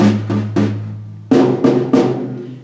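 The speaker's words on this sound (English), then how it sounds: "The middle two toms." Middle two toms of a drum set struck one after another: three strokes on one tom, then three on the other, each a resonant pitched thump with short decay, close and alone.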